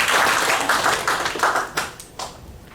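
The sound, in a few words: congregation clapping hands for God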